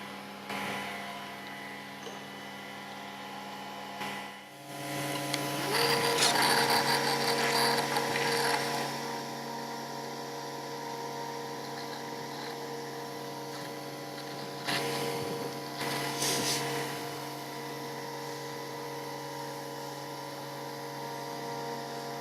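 Festool Conturo KA65 edge banding machine running as it applies wood lipping to a panel edge, a steady motorized hum with a mechanical whir and brief rattling surges, no one speaking.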